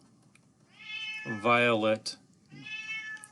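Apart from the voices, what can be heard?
cat meowing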